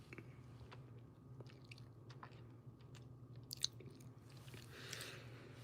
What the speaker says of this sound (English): I'm chewing one of my gummies. Not that type of gummies, but vitamin gummies.